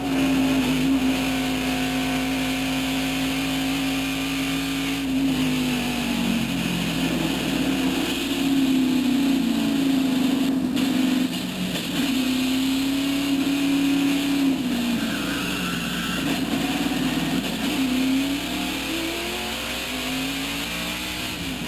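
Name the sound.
race car crash from in-car camera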